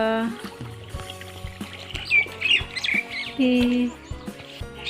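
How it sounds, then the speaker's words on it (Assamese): Large ducks near water at the Nagshankar temple in Assam give harsh, nasal squawks, fairly close and mixed with other bird chirps, while people talk nearby. "ডাঙৰ ডাঙৰ হাঁহ।"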